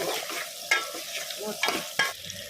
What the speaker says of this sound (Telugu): ఉప్పు వేసిన తర్వాత మొత్తం కలిపేసుకోవాలి.